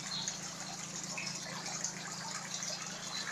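Water flows steadily at a fish farm for fish larvae and fingerlings, a continuous soft gushing, trickling wash at low level with no voices.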